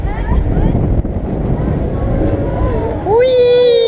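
Strong wind rumbles and buffets the microphone in a steady roar at the Nigloland amusement park, with a rising tonal hum cutting in near the end.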